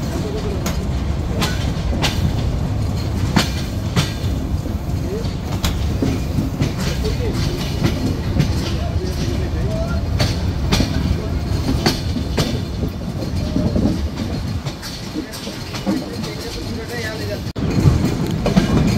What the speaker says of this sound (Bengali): প্রত্যেকটা ট্রেনই কিন্তু খুব আস্তে আস্তে এই জায়গাটা অতিক্রম করে যাচ্ছে